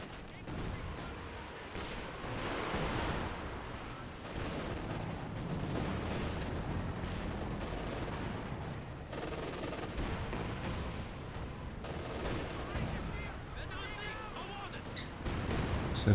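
Artillery barrage in a real-time strategy match, a dense rumbling roll of distant shell blasts running steadily throughout under continuous casting commentary.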